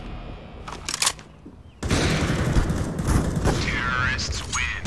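Gunfire in the video game CS:GO on the Inferno map, loud and dense bursts after a quieter opening with a few isolated shots, a continuous clatter of shots and effects filling most of the clip.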